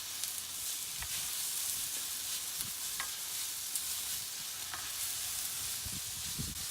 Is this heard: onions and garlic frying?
yes